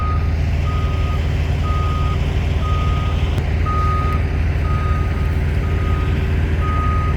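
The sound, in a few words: trucks at a truck stop, reversing beeps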